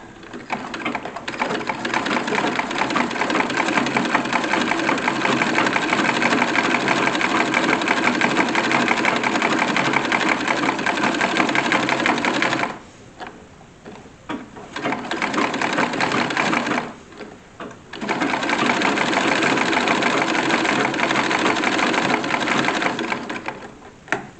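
Home sewing machine stitching a pair of mid-19th-century style drawers, running in long continuous bursts, close and steady, with two short pauses before it resumes.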